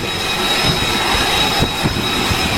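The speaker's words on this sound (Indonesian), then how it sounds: "Rekaman yang dirilis oleh Senkom pada hari Minggu menunjukkan sebuah pesawat bergerak ke posisi dek penerbangan sebelum lepas landas." A military jet taxies across an aircraft carrier flight deck before takeoff, its engine giving a loud, steady roar with a thin high whine that runs through the whole moment, with no voices.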